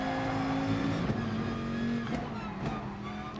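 A Dodge Viper race car roars through a racing video game race, its engine a loud, sustained drone that rises and dips in pitch, with brief breaks where it shifts gear.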